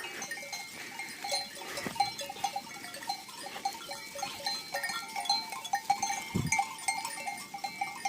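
Goats on a farm bleating in a busy outdoor setting, calls repeating through the clip with a bell-like clanking mixed in, moderately loud over steady background noise.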